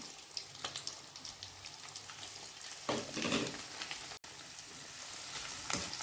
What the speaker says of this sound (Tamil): அரை கப் அவல் எடுத்திருக்கேன், அதை பொரித்து எடுத்துக்கலாம்